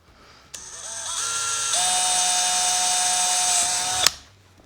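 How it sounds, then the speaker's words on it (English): A power drill bores a hole through the hull of a Vibe Shearwater 125 kayak. A loud, close whine starts abruptly, climbs in pitch, then holds steady for about three seconds before cutting off sharply. "Drill the second hole."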